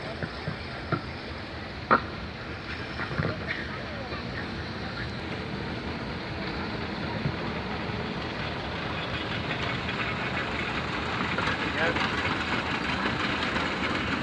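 A Planet diesel locomotive, type 3627, runs at a museum rail gala in Sussex. Its engine gives a steady low rumble throughout, with a few faint knocks early on.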